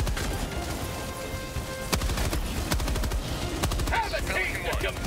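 Rapid bursts of automatic gunfire and heavier shots from a firefight in Helldivers 2, dense and continuous with a few louder cracks, over faint background speech.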